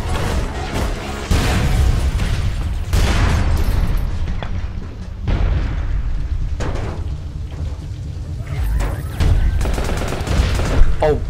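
Gunfire and a grenade explosion in the online shooter APB: dense, loud bursts of automatic fire and booming blasts throughout, close and continuous, with short gaps between volleys.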